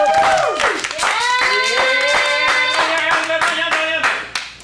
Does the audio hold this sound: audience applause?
yes